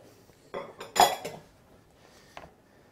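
Spoon mixing mushroom, egg and pesto in a bowl: a few quiet clinks and scrapes of metal against the bowl, the loudest one in the middle, then a faint tap near the end.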